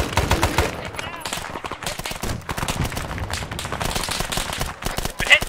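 Rapid machine-gun bursts and gunshots in a war video game, dense and continuous with loud cracks throughout, mixed with faint background voices.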